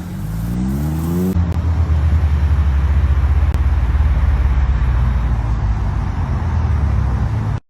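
At a car show, a car engine revs and then roars in a sustained burnout, loud and close, with a steady low rumble and no voices.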